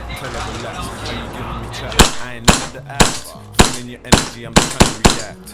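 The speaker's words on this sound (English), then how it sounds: "So yeah, the Joker pistol, and she's so loud." A custom HiCapa airsoft pistol fires about eight sharp, loud cracks at uneven, fairly quick intervals, following a few seconds of quieter background sound.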